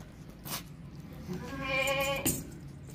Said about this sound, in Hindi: टोरस सेहतमंद बकरा है।